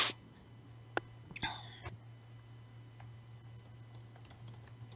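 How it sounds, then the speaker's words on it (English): Faint keyboard typing in a quiet room, a few scattered key clicks and light taps set against a steady low hum, with no talking over them. "Who is typing?"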